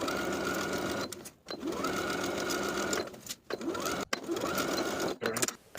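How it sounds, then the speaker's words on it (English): A sewing machine runs steadily, close and loud, stitching a waistband onto a denim skirt in three long bursts separated by brief stops. "Sew the waistband to the top of the skirt with the 3/8 inch seam allowance all the way around."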